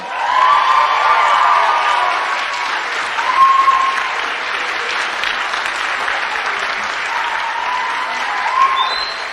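An audience claps for English section award recipient Benjamin Torgman at a 2021 Herzliah graduation ceremony, with dense, steady applause filling the room for the whole stretch at an even, moderate level.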